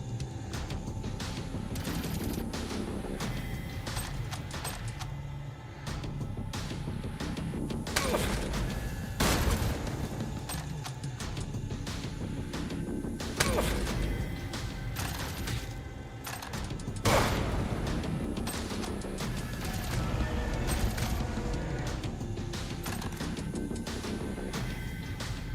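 Loud, repeated bursts of blind gunfire in the video game Jupiter Hell, with rapid volleys and heavier booming shots recurring at irregular intervals over continuous game noise.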